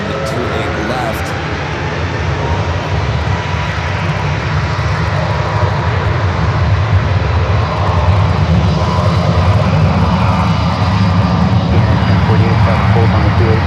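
A jet airliner roars steadily through its takeoff run at San Francisco airport, a loud, broad, continuous engine rumble that builds slightly toward the end and is heard alone.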